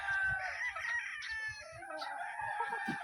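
A Gilmore and Golden Boy sweater cross gamefowl stag crows close and loud in a single drawn-out cock-a-doodle-doo, with softer clucks and farmyard noise beneath.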